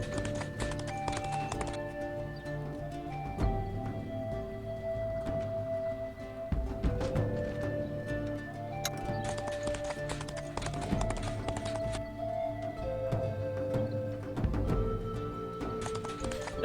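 Horse hooves clop at a walking pace in the Expeditions: Conquistador video game, a steady rhythmic clip-clop set under game music and ambience, with no speech.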